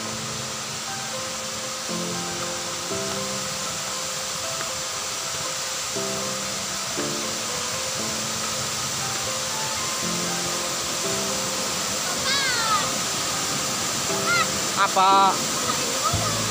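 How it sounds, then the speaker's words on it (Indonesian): Laliako waterfall in West Sinjai roars as a steady, loud, broadband rush of falling water throughout, with people talking over it and a few brief higher tones near the end. "Air terjunnya luar biasa ini ya"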